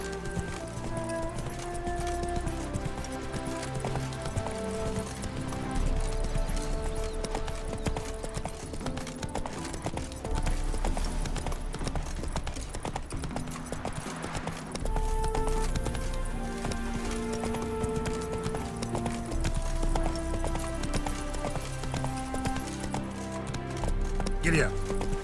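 A horse gallops in The Witcher 3: Wild Hunt, its hoofbeats running continuously beneath loud, sustained orchestral game music, with a voice speaking briefly.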